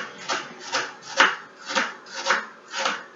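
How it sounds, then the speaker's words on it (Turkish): Onions chopped on a board with a knife, six evenly spaced crisp cuts in a steady rhythm, close and clear with no talking. "Evet, soğanlarımızı doğruyoruz."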